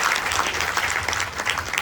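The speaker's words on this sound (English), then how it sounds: "Give a round of applause to me." A crowd at an outdoor Ramayan in the Park gathering claps steadily, a dense, close patter of many hands sustained throughout.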